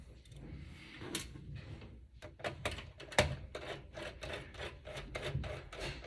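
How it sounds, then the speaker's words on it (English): Small screwdriver work unscrewing the M.2 SSD heatsink on a PC motherboard, with faint scraping, rubbing and a series of short ticks and clicks, close and quiet, with a sharper click midway. "unscrew this heatsink"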